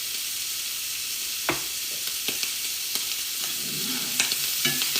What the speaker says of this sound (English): And the thing with shrimp is they saute up very quickly.